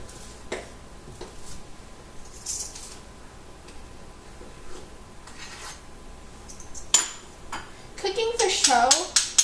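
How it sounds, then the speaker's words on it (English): Food scraped and spooned into a small bowl, light clinks and rubbing of utensil against dish, sparse at first and then busier and louder toward the end, with brief quiet voices. "I'll put this in this little bowl because that's what the professionals do"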